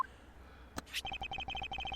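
A handheld phone gadget in the Ace Attorney Investigations video game gives a short electronic chirp, then a rapid run of steady beeping tones, fairly quiet and without any talk.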